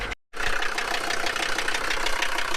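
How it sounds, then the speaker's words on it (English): A 1979 Mercedes 300D diesel engine runs loud and steady, with a rough, knocking idle rumble that continues close by after a brief cut at the start. "a really loud diesel Mercedes running"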